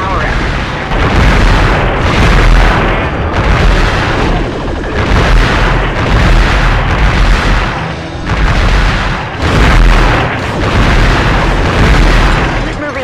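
Loud, booming explosions from a building being destroyed in the video game Future Cop L.A.P.D., with repeated heavy blasts in rhythmic bursts and brief dips between them, under a voice speaking.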